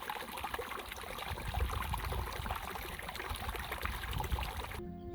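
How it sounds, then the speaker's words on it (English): A stream flows along a desert canyon trail in Catalina State Park, Arizona, a faint steady trickle and burble of water with no talk. "There's just something about the sound of flowing water out of nature."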